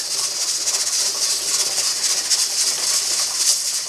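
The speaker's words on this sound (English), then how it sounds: "That hissing is from the other one, and you can't see any steam coming out." Steady, even hiss of steam escaping from a pressure canner while pinto beans are canned, continuous and fairly close for the whole stretch with no talk over it.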